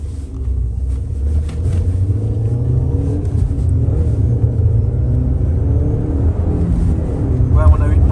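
Car engine rumbling steadily and pulling harder as it accelerates, a loud continuous low drone heard from inside the cabin with a voice talking over it.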